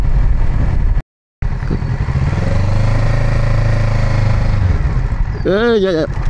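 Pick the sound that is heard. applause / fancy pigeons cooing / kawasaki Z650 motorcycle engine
kawasaki Z650 motorcycle engine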